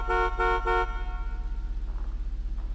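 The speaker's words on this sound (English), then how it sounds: "That's the honking." Three loud, evenly spaced honks from the horn of a Progen Luiva supercar in GTA 5 Online, each about a quarter second, followed by a steady low engine idle.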